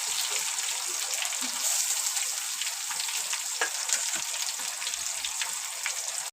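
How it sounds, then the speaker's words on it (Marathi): Onion, garlic and green chili frying in a pan give a steady, close sizzle that hisses continuously throughout, with faint scattered pops and crackles and no talking. "कांदा आणि हे लसूण मिरची व्यवस्थित भाजून घेणार आहे"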